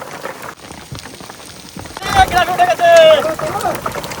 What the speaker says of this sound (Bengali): বৃষ্টি কেমন আসছে? ঝাপা বৃষ্টি